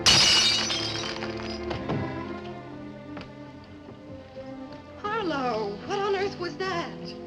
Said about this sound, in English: if you shatter a pane of glass in the dead of night, it makes a noise